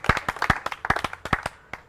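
A studio audience on a French television entertainment show claps in scattered, uneven bursts, a fairly small group of hands slapping close by, thinning out and ending on a few lone claps.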